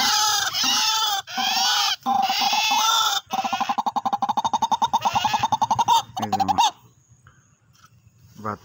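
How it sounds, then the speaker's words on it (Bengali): A white-breasted waterhen (dahuk) decoy bird and its chick call nearby in loud, harmonic bursts, then a rapid pulsed series of calls, fading to near quiet at the end. "এই যে শিকারি ডাউক, আর এই হলো বাচ্চা"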